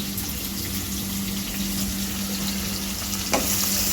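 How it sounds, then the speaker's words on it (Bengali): Onions fry in a pan in a steady, bubbling sizzle, with a brief clink or stir near the end. The frying stays at close range, with no talking over it. "তো পেঁয়াজটা ভাজা হোক"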